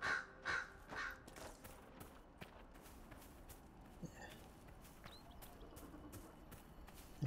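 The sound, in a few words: crow cawing in the video game Dragon Age: Inquisition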